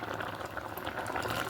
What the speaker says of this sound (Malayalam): ഇപ്പോൾ കണ്ടോ, പുളി ഒഴിച്ചിട്ട് നന്നായി തിളച്ച് വന്നിട്ടുണ്ട്